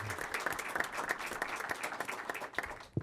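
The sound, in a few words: applause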